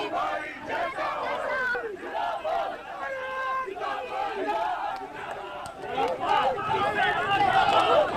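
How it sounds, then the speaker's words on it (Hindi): A crowd at a Congress party rally march in Dharamshala makes a continuous roar of chanting voices and shouted slogans, loud and dense from nearby and swelling toward the end. "भीड़ आप देखिए यहाँ पर युवा भी इस रैली में शामिल"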